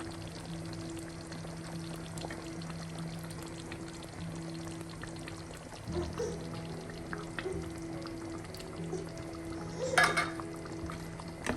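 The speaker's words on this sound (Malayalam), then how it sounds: "ഇനി നമുക്ക് ഇതിലോട്ട് ക്രീം ചേർക്കാം" Cream pours into a creamy Afghani chicken gravy with a soft, quiet trickle, then a couple of louder splashes and clinks near the end.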